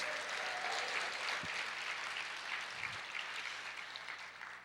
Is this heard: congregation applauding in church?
yes